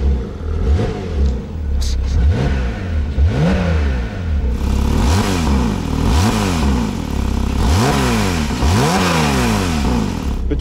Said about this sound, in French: Donc la voiture est équipée de valves, là c'est en valve fermée.